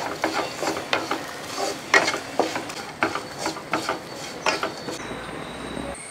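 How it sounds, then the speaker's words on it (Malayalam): Koorkka (Chinese potato) is stirred with masala powder in a pan, giving a close series of rhythmic scraping and clattering strokes, roughly two per second, with no talking. "അപ്പോൾ ഇതെല്ലാം കൂടെ ഒന്ന് ഇളക്കി കൊടുക്കുക."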